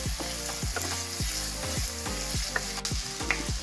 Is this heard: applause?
no